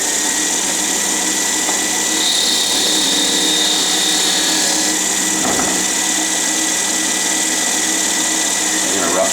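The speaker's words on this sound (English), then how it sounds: "I'm going to go ahead and use the lathe to face off the ferrule" A lathe facing off the ferrule on a cue tip, a steady loud whirring hum with a high whine running throughout and a brief scrape of cutting partway through.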